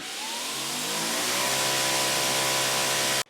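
Greenworks 80V battery pressure washer running on eco mode, a loud continuous motor whine and spray rising in pitch and holding steady before cutting off abruptly at the end.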